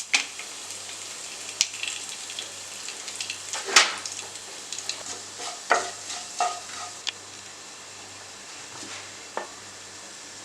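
Whole spices, fennel, cumin, cardamom, cloves and cinnamon, frying in hot oil in a pan, with a steady crackling sizzle, sharp spatter pops and scraping stir clatters close by, no talking.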